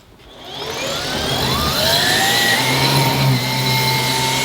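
A Dyson Ball Animal Multifloor vacuum cleaner starts up and runs on carpet, its motor whine rising over the first second into a loud, steady roar with shifting tonal sweeps, heard close and with no talking.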